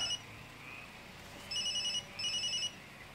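A telephone rings in two electronic bursts, each about half a second long and separated by a short pause, sounding near and clear over a quiet room hum.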